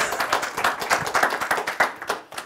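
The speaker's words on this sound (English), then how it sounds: "Bigger applause now." Audience applause at a 1 Million Cups startup pitch event in Missoula: many hands clapping together in a dense, steady burst that holds throughout, with a slight tail-off at the end.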